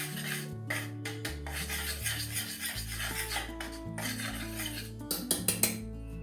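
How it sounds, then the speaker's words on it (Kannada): A spoon stirring chilli powder, salt and turmeric together in a bowl for chakli dough gives repeated close scraping and clinking, with background music underneath and a few sharper taps at the end. "ಇವಾಗ ಸ್ಪೂನಿನಿಂದ ಈ ರೀತಿಯಾಗಿ ಎಲ್ಲ ಪುಡಿ ಎಲ್ಲ ಮಿಕ್ಸ್ ಆಗಬೇಕು"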